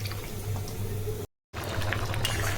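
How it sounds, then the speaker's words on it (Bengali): Fish being rinsed under running water in a home kitchen, a steady close splashing wash with a brief break in the middle before the flow resumes. "এখন হচ্ছে এই মাছটা ভালো করে ধুয়ে নিতে হবে।"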